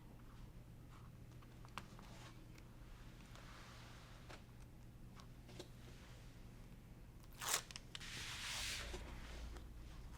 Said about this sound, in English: I've been using the point of the scissors, and it goes a lot faster and a lot easier